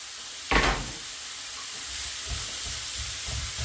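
Chopped onion dropped into a hot pan for a beef madras curry, a sudden loud sizzle burst that settles into a steady, quieter frying hiss with a few soft stirring thumps.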